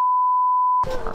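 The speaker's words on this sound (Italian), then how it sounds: "Ci metto un beep, non ti preoccupare" A single steady censor beep, a pure electronic tone held loud and alone for most of a second, cutting off abruptly into noisy game audio and background sound from an F1 2013 racing session.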